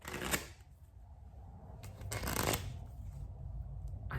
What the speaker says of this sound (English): I have a deck of playing cards.